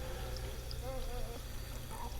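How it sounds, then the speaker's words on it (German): Running water tap in the video game The Park: a faint, steady trickling pour of water under low background hum, quiet and continuous. "Wasserhahn läuft immer noch in die Rohrzange hin."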